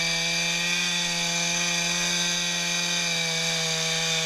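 A chainsaw trims the end of a log, holding a loud, steady high-revving whine without a break throughout.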